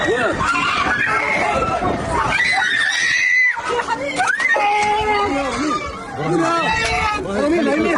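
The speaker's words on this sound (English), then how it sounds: "The screams of children can be heard" Children scream and cry after an attack in a Gaza refugee camp, shrill panicked wails rising and falling amid a chaotic babble of adult voices shouting nearby.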